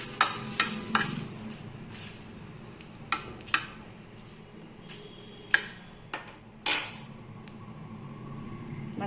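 Dried red chillies frying in a pan while being stirred, giving a low steady sizzle broken by sharp clicks and scrapes of the spoon against the pan at irregular intervals.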